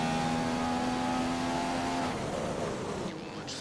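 Race car engine in an F1 video game at the Chinese Grand Prix, a loud high-pitched whine rising steadily as it accelerates, then dropping and fading slightly near the end with no talking.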